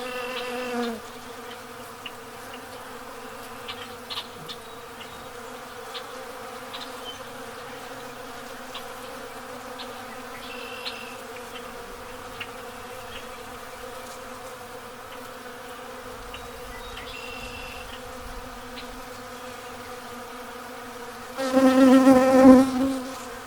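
Honey bees buzz steadily in a continuous drone during a solar eclipse, with one bee loudly whirring right up close on the microphone's wind muff near the end.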